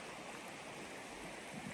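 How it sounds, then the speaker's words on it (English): Wilderness river flowing steadily, a constant broad rushing wash of water heard at a moderate distance with no voices. "See the river right there."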